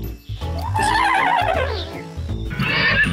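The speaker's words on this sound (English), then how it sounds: "That's just a horse neighing." A horse gives a loud, shrill whinny that wavers up and down, followed by snorting breaths and another high neigh close by.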